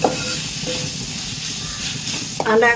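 Grated coconut roasting in hot oil for chicken curry, a continuous close sizzle and hiss with light stirring, ending in a brief clatter and a short burst of voice.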